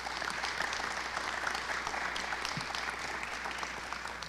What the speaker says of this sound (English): let's give Sarah, Eric, Whitney, and Stephanie a big round of applause